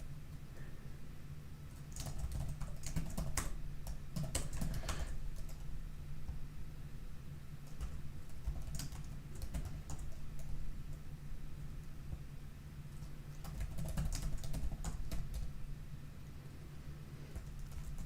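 Someone types on a computer keyboard with irregular bursts of key clicks, including presses of the Enter key. The typing is quiet and close, with pauses between the clusters of keystrokes over a low background hum.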